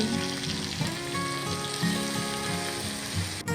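Snake gourd added to onions and chilies already frying in a pan, giving a loud, steady, continuous sizzle of hot oil. Faint stirring or scraping sounds run beneath it, with no voices.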